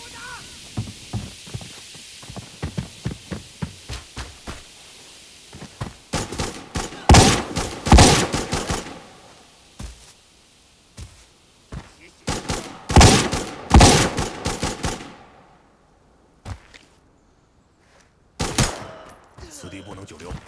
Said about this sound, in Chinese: 枪声会引来其他的游荡者